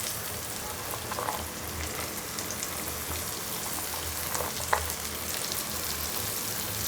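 Chopped cluster beans (gokarakaya) go into a pan for an egg curry, giving a steady, close crackling sizzle with small pops throughout, nobody speaking over it.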